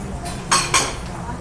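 Ceramic plates being handled at a household goods shop give two bright, quick clinks close together, heard over a low background murmur.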